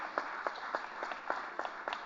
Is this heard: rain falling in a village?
no